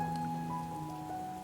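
Rain falls steadily on a monsoon evening, a soft, continuous wash of drops at low level with a faint tonal hum running beneath, quiet and even throughout with no talking.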